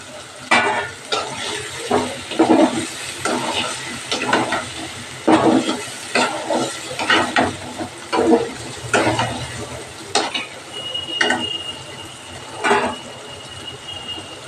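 Egg added to softened, well-fried potatoes in a pan, with a spoon stirring and scraping the pan in irregular strokes over a soft sizzle, fairly close and loud with no talk.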